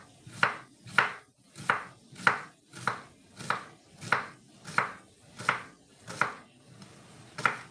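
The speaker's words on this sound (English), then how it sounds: "if I cut that way, the onion halves are going to be too long" A knife slices an onion on a cutting board in an even series of about thirteen crisp chops, close and moderately quiet, spaced roughly half a second apart.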